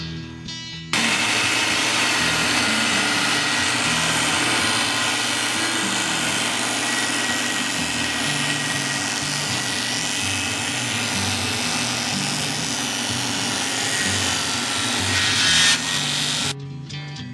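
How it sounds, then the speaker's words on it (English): A power saw cuts a narrow strip from the wooden body blank of a guitar, starting abruptly and running as a loud, continuous buzzing whine with a gritty edge before cutting off near the end. "Then I set the saw blade to cut just the very narrow part of the other side of the piece of wood."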